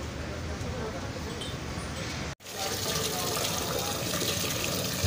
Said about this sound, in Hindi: पानी डाल दिए